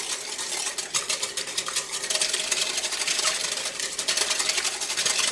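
A whisk beats vegetable oil and granulated sugar together in a bowl, giving a fast, continuous scraping and clicking that is fairly close and steady, with no talking.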